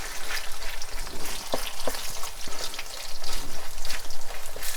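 Thin-cut beef sizzles and crackles in hot oil as it is stirred and moved around, with a steady, fairly loud frying hiss and occasional sharp pops and scrapes, and no voices.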